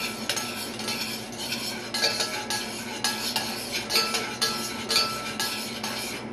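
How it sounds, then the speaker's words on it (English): A utensil scrapes and clinks around a pot of warming honey and oil for caramel popcorn, repeated stirring strokes over a low steady hiss, with no speech. "So you want a little bit of stirring to go on."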